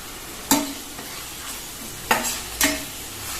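Cinnamon and clove spice powder frying in a pan for pulav rice, a soft steady sizzle broken by three sharp scraping stirs of a spoon against the pan, close, with no talking.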